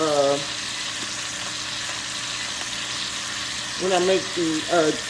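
Pork chops browning in a frying pan give a steady, even sizzle that runs throughout, with a voice speaking briefly at the start and again near the end.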